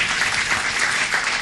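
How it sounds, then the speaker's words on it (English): Steady applause from a city council meeting audience, dense even clapping throughout with no pauses, moderately loud and close. "Give Cliff a round of applause"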